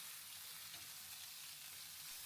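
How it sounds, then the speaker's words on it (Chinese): Sea cucumber and lettuce stir-frying in a wok with a steady, even hiss of hot oil sizzling throughout, close up and quiet, with no voices. "把海参和莴笋倒进炒锅里翻炒"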